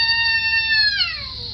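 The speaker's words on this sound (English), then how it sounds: "This cat was in trouble and yelled for backup from her big brother." A cat lets out a single loud, drawn-out yowl up close, the pitch holding steady and then sliding downward as it fades at the end.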